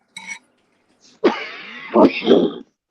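Close, harsh throat-clearing coughs after swallowing soda the wrong way, a short rough burst followed by two heavier hacking coughs, with a faint clink before them.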